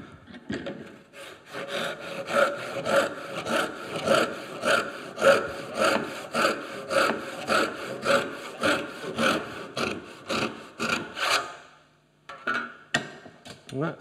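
A hand saw cutting through wood for a joiner's mallet, steady close rhythmic rasping strokes, about two per second, slowing and stopping as the blade starts to bind, with a few scraping sounds after.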